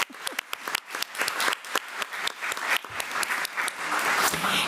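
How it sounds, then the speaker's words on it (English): An audience at a board meeting applauds with dense, lively clapping that carries on steadily and then builds slightly near the end, with no talking over it. "Let's give Raylan another round of applause."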